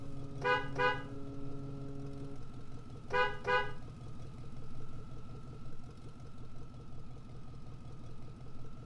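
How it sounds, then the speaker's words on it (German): A truck horn in Ship Graveyard Simulator 2 sounds two pairs of short honks, the second pair about three seconds after the first, over a steady engine drone. "Das ist die Hupe für diesen Truck?"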